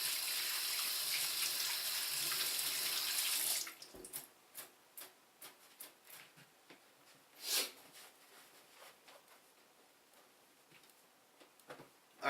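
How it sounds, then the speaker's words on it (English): Kitchen tap running as egg is washed off hands, a steady close stream of water that stops after a few seconds, followed by scattered drips, splashes and handling sounds. "I want to wash all the egg product that I have on my hands."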